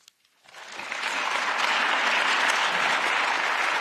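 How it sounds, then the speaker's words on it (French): Applause for President Macron at the Parliament starts from near silence and swells within a second into sustained, dense clapping from a large audience that continues steadily to the end. "Voilà donc pour les applaudissements du Président de la République."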